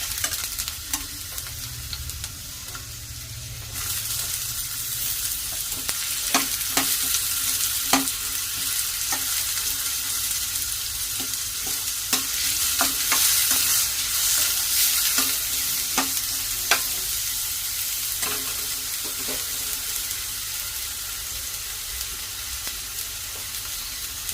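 Onions frying in peanut oil for an Andhra mutton curry, a loud continuous sizzle that swells as they hit the oil, with scattered stirring clicks and scrapes throughout.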